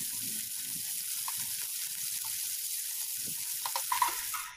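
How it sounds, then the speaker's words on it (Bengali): Prawns frying in a little mustard oil in a pan give a steady, close sizzle with soft crackles and pops that grow slightly denser toward the end. "তারপর ওই একই তেলের মধ্যে অল্প একটু সর্ষের তেল অ্যাড করে চিংড়ি মাছগুলো ভাজতে হবে।"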